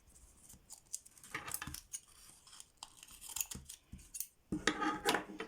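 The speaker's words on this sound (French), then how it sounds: "Font du bruit mes ciseaux." Small scissors cutting during a diamond painting craft session: a series of crisp, close snips in irregular bursts, separated by quiet pauses with faint handling noises.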